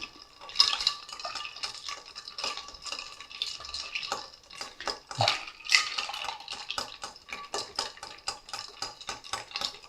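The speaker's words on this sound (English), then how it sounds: "I'm not gonna have to stir this for that long today because the ice was pretty well tempered" Ice cubes clink and rattle rhythmically as a cocktail is stirred in a glass, bright repeated taps close up, steady throughout with no talking.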